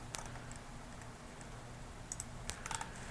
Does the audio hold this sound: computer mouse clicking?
yes